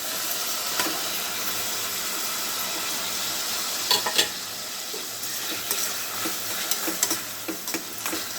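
Tomatoes go into onions frying in a pan, making a continuous loud hiss and sizzle with a few sharper crackles and stirring scrapes partway through.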